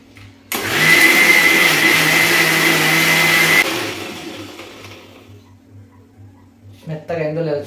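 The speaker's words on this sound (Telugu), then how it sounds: "వాటర్ మొత్తం వేసేసి పెట్టేసి మిక్సీ పట్టేసుకుందాం." A kitchen mixer grinder blending a paste with water starts with a sudden loud whirr, runs steadily for about three seconds, then winds down, with a voice briefly heard afterward.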